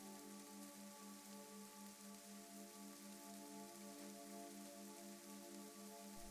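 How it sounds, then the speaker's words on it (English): Soft, steady rain falls without pause, a dense even hiss with no voices and no distinct drops standing out. "Just the soft and steady sound of rain."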